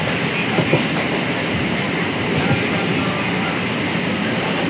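A MEMU train running on the Katwa–Rampurhat line near Sagardighi station in rainy weather, heard from inside as a continuous loud rumble with faint rhythmic clatter of the wheels.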